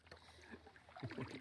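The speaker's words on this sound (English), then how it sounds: "Proof that Greg is paddling" A short paddle dips and pulls through lake water beside a canoe or kayak, giving soft splashes and drips close by, with the strokes growing louder toward the end.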